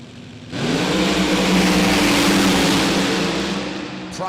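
Drag racing hot rod engines revving at the starting line at the California Hot Rod Reunion: a sudden, very loud engine roar bursts in and holds steady, then eases slightly, close and with no voices over it.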